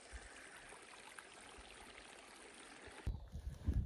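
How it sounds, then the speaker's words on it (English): A small mountain stream flows in a steady soft wash near New Mexico's Cumbres Pass, faint and continuous, with a louder rustle of handling noise near the end. "and then just flowing water."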